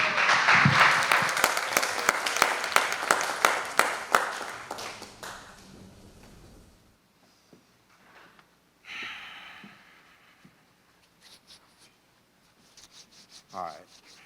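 An audience at an oratory competition greets a student performer with brisk applause that rises strongly, then thins into scattered claps and fades to near silence with small stray noises.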